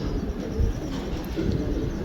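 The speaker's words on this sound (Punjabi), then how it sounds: "ਚੈੱਕ ਕਰੋ ਗੋਲਡਨ ਕਬੂਤਰ ਆ ਵੀ।" A golden pigeon kept by a pigeon fancier gives soft, low coos, close by and faint over a steady background hum.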